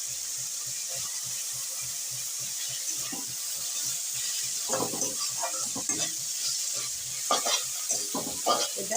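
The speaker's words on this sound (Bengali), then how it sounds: "এটা বেশিক্ষণ ভাজা হবে না" Boiled chicken stir-frying in a kadai for a healthy chicken and vegetable soup, with a steady bright sizzle and rhythmic scraping stirs of a spatula against the pan, close and continuous without talk.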